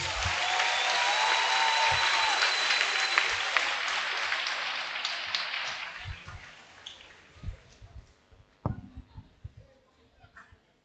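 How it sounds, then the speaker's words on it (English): Audience applause after a robotics project presentation at a university smart lab launch, loud and sustained for about six seconds, then fading into scattered claps and quieter room noise. "Another round of applause for our DT presentation."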